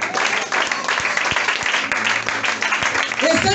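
Church congregation applauding during a Sunday worship service, a dense steady wash of clapping lasting throughout, with a few sharper individual claps and voices mixed into the crowd.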